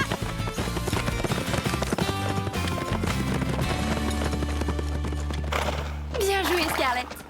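Cartoon horses gallop in a race, their hooves drumming in fast clip-clop rhythm under music and voices, with a whinny near the end.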